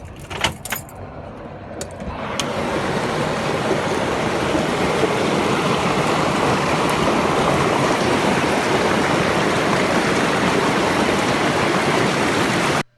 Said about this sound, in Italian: C'è niente da fare, l'acqua non si ferma.